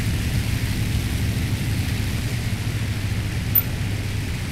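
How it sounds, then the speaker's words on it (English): A military plane taking off in the video game War Thunder: a dense, steady engine roar with broadband rushing noise, loud and constant throughout, with no talk. "Dang, you're able to take off like really fast."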